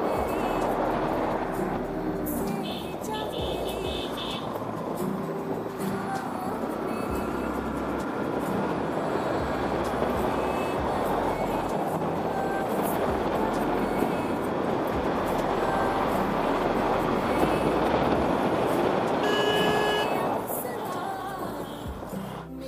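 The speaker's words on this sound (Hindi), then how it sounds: "एंड गाइस आवाज देख रहे हो कैसी गूंज रही है गाड़ी की।" Motorbike engine echoing along a mountain road between Bhowali and Haldwani, a steady loud drone with a broad rumble that holds for the whole stretch, wind rush over it and no talk.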